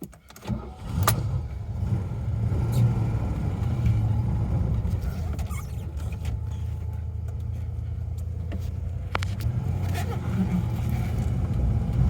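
A Fox-body car with brakes needing bleeding runs during a test drive, a steady low engine drone from inside the cabin with occasional clicks and brief knocks over the rumble.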